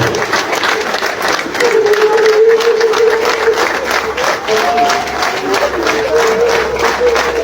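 Sustained applause from a large crowd at the funeral farewell for veteran Ethiopian actress Frehiwot Bahru, a dense continuous clapping wash with a murmur of voices and calls mixed in, loud and close throughout.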